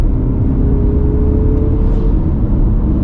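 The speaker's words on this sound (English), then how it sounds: "Oh, you hear that turbo come down?" A Toyota RAV4 Woodland or Mazda CX-50 Meridian Edition turbo engine pulls hard in sport mode, a loud, steady rumbling drone from inside the cabin with a rising whir, the boost easing off near the end.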